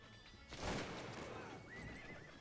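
A horse whinnies loudly in the Napoleonic-era strategy game Cossacks II: Napoleonic Wars, a sharp rising neigh followed by softer clip-clop and a second fainter whinny amid game ambience.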